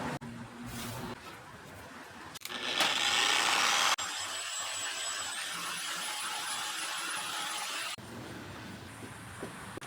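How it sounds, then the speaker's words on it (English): Dual-action polisher buffing the paint of a 2009 Toyota Matrix with Meguiar's Ultra Cut compound, a steady whirring motor hum that rises in pitch and loudness as it spins up, close and continuous, with no talk. "I'm going to use a DA polisher and some Meguiar's Ultra Cut compound to start"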